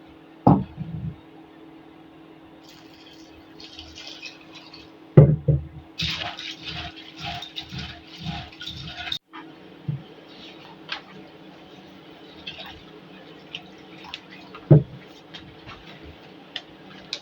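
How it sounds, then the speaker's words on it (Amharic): Split fava beans being washed by hand in a bowl of water, producing sparse clicks, knocks and soft rattling swishes that come in bursts with quiet gaps between them. "አሁን ባቄላችንን እናጥበዋለን።"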